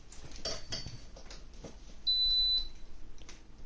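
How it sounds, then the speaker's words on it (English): A single high-pitched electronic beep from a Midea 2-in-1 Turbo Heater Fan being plugged in lasts about half a second, clear above faint clicks and handling noises nearby. "Beeps at you when you plug it in."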